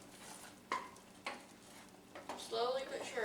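Thick apple pie filling being stirred in a pot on the stove, a few distinct spoon scrapes against the pot followed by busier clattering stirring, with people talking nearby.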